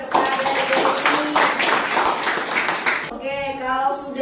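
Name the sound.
class applause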